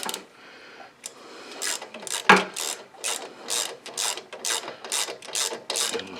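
A ratchet wrench tightening the oil drain fitting on a Kohler engine of a Husqvarna LGT 2654 garden tractor, rapid close clicking in repeated short bursts, loud and alone.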